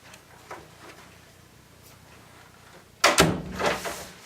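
A resistance band is shoved into a door, giving a soft tap or two and then a sudden loud clunk and rattle of the door near the end, close by in a quiet room.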